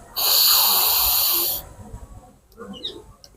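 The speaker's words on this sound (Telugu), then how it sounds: "కుడి నాభి నుంచి గాలి తీసుకోవాలి" One long, deep breath is drawn in through the right nostril during alternate-nostril pranayama, with a steady hissing whoosh lasting over a second, then a quiet pause.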